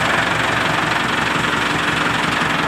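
A 2015-model tractor engine runs steadily nearby, a loud, continuous rumbling drone with a knocking texture and no pauses.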